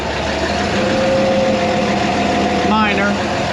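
A dragline's engine idles steadily with a small exhaust leak, a continuous droning rumble with a faint hiss, close and constant throughout, with a brief higher whine near the end.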